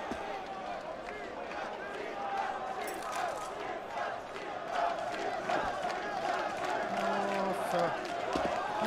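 A large esports arena crowd at a Counter-Strike PGL Major match roars and cheers in sustained, swelling waves, with an excited commentator talking loudly over the noise.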